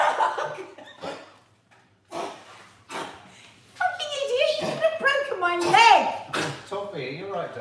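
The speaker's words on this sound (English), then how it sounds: "That's her kennel cough, by the way." A dog with kennel cough gives a few short, harsh coughing bursts near the start, followed by people talking loudly nearby.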